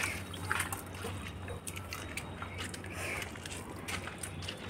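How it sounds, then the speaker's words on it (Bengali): Rainwater leaking through a roof trickles and drips into a room, a faint, continuous wet patter with scattered small drops and a low background hum. "তো তোমাদেরকে ছাদ দিয়ে জল পড়ছে সেগুলো একটু দেখাবো"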